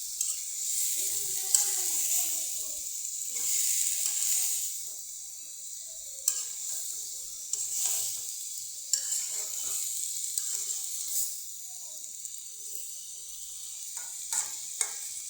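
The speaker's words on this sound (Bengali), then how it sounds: "লাড়াচাড়া হয়েছে, লাড়াচাড়া ভালো করে মশলাটা মিশাইছি" A pan of fish curry with spices is stirred, the spoon scraping and clinking against the pan over a soft, continuous sizzle, with brief louder scrapes at intervals and no talk.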